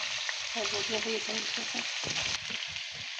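Chicken pieces for Balochi chicken tikka masala fry in a pan with a dense, continuous hiss of sizzling oil. A brief tonal hum rises partway through, then the frying carries on alone at close range.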